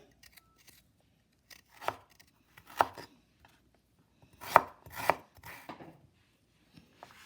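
Ginger being cut up to prepare it for juicing: several sharp, separate cutting strokes, close and moderately loud, spaced irregularly with short quiet gaps and no talking.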